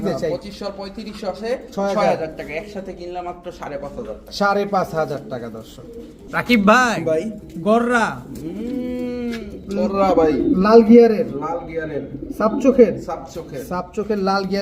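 Pigeons coo repeatedly in soft, throaty bursts, close by, with people talking over and between the calls.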